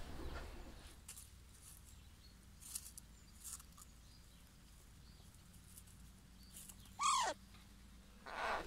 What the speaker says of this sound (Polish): To jest wrona siwa Ewka.